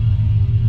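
A Pontiac Firebird drag car idles at a drag strip, its engine producing a deep, loud, steady low rumble with a slight pulsing rhythm.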